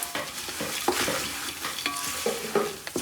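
Fish curry ingredients sizzle and fry in a hot pan while a spoon repeatedly scrapes and stirs them, the sizzle constant and close with sharp stirring knocks, no voices.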